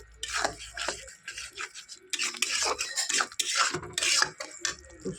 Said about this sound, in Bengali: টক দইটা দেওয়ার পরে একটু ভালো করে নাড়তে হবে